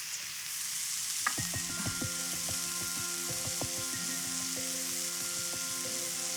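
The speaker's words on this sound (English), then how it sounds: "so I'm gonna let it grill on this side for about 3 minutes" A steak grilling in a hot pan gives a loud, continuous sizzle. Bright metallic ringing tones and light taps begin partway through and sound over it, close up, with no talking.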